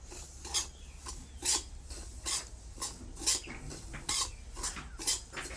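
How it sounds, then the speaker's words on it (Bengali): Semolina (suji) being stirred in a pan for darbesh sweets, a dry scraping rasp repeating in a steady rhythm of strokes, close and moderately loud with no talking. "সুজিটা এইভাবে হালকা হালকা করে নেড়ে যেতে হবে।"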